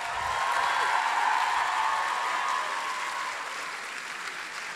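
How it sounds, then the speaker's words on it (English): Audience applause for the chapters and participants at a Greek Sing 2024 event, a dense, steady wash of clapping that holds loud for a few seconds and then eases slightly. "let's give a huge round of applause to all the chapters and the participants"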